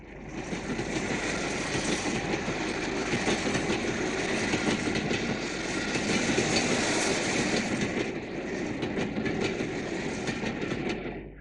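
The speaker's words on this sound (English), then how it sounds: "The distinctive shape of Sir Nigel Gresley emerges out of the gloom, passing the site of the old Midland loco shed" The steam locomotive Sir Nigel Gresley rumbles past near the old Midland loco shed site, a loud continuous roar of wheels and exhaust with rhythmic rail clatter that eases slightly toward the end.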